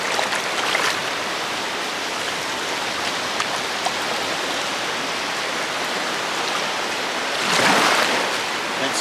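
Small waves washing at a shoreline while someone pans sand for gold, a continuous wet hiss of water with one louder surge of breaking surf near the end.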